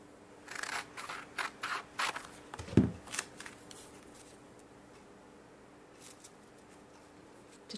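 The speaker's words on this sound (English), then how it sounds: "For the stems, I just cut my straight pieces here." Scissors snip through straight fabric strips for flower stems in a series of quick, close cuts over a few seconds, with a soft thud in the middle, then quiet handling.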